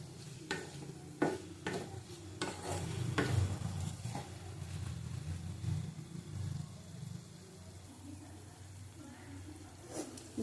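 Chicken being stir-fried for egg chicken tadka sizzles faintly in a pan, with repeated spatula knocks and scrapes over a low, uneven frying hiss.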